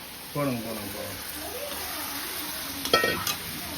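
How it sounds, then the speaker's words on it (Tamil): Onion and tomato sautéing for chicken thokku, a soft steady sizzle with scraping stir strokes and a brief clatter near the end, while a voice talks over the frying at the start. "இப்போ வெங்காயம் தக்காளி வதக்கிட்டு இதை எடுத்து இதில் போட்டுடலாம்."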